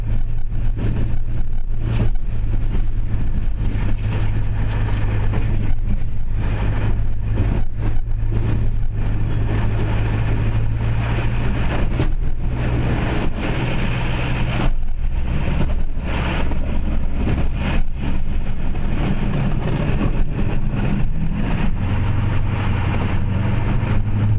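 A Duramax pickup truck spins its tires in deep snow while plowing, its diesel engine droning loud and steady throughout, with rising revs and rough, grinding surges; no voices.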